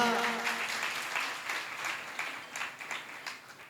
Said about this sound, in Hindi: तो बजा दो तालियां।